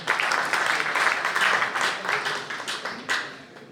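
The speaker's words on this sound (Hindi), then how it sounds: "आप लोग अपने लिए एक दफ़ा तालियां बजा लीजिए।" Audience at a mushaira poetry gathering in Toronto applauds, a brisk round of clapping that holds steady and then thins and fades toward the end, with some voices mixed in.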